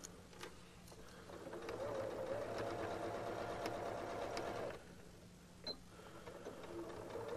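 A sewing machine doing a reverse stitch on a soft weighted eye pillow: a steady whirring run of rapid stitching for a few seconds, then a pause, a brief click and a short quieter burst.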